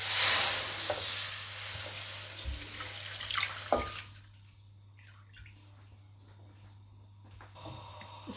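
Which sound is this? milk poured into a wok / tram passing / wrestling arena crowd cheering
milk poured into a wok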